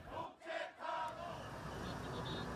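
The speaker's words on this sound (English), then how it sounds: "Crowds gathered outside the parliament" A crowd rallies outside parliament, heard as distant, faint massed shouting and cheering swells over a steady outdoor murmur.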